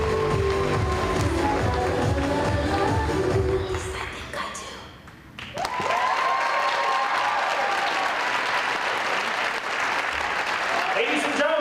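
Cheering crowd applauds the Shaler Area dance team at a girls' basketball senior night in a school gym, loud steady clapping over music that drops out briefly midway, then the applause swells back strongly and continues.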